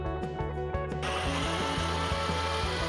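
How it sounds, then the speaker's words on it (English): A power saw set to a 45-degree bevel cuts through an ICF foam block, giving a continuous loud whirring buzz with a rhythmic ratcheting pulse, close up and with no talking. "The saw blade needed to be set to 45 degrees for the last cut."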